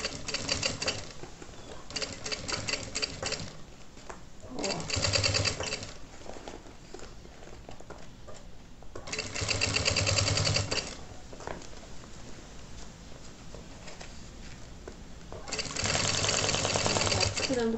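A sewing machine stitches bias binding onto a children's backpack in short, quiet bursts of rapid whirring, with pauses and soft handling noises between runs.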